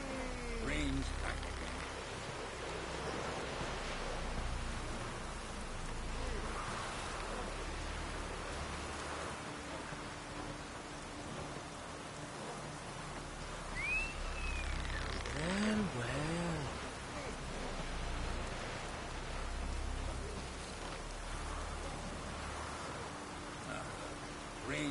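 Rain falls in a soft, continuous hiss that stays fairly faint and even throughout, with a few faint incidental sounds scattered in the background.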